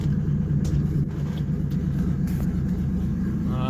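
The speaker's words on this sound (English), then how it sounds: "Well, I'm gonna go for a quick test drive" Inside a Land Rover with a naturally aspirated 606 engine on a short test drive, a loud, constant low engine drone and road rumble fill the cabin without pause.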